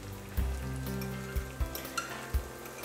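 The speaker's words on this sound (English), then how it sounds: "Now we're gonna let those fry" Salmon patties fry in a pan with a steady, close sizzle, punctuated by a few soft low thumps and knocks as the pan or patties shift; no one speaks.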